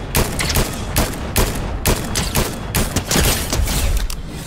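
A gun empties a full clip in a video game as a fast, loud burst of repeated shots in uneven clusters, blending into a continuous crackling volley.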